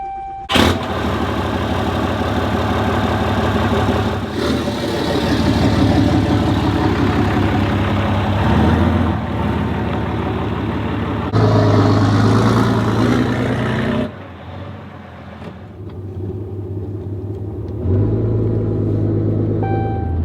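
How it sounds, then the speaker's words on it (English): A Cummins diesel pickup truck drives along the road with a steady, loud engine rumble and drone that shifts in tone a few times, likely with gear changes, and dips briefly near the end before resuming. No one speaks. "We're now headed to the store in the Cummins."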